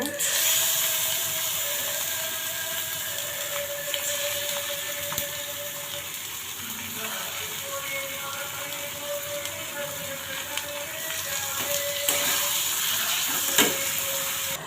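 Chopped tomato goes into a pan of hot oil and fries with a steady, moderate sizzle and hiss that runs throughout, with occasional soft clicks and scrapes.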